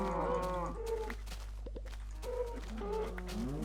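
Cows in the video game Minecraft moo in a swamp area, several drawn-out lowing calls in succession, close and clear over a steady low hum.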